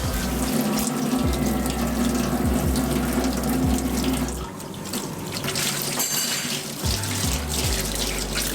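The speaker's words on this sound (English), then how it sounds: "rinse and clean" Tap water gushes steadily over an air filter being rinsed of sand and oil at a sink, with hand splashes and wet squeezing as the flow shifts, loud and close.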